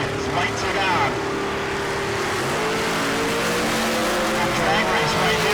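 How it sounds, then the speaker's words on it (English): Drag racing cars run down the strip at a Heads Up Hootenanny event, a loud continuous engine roar with rising and falling pitch from far-off cars, mixed with crowd din and an announcer talking over it. "Drag race right here."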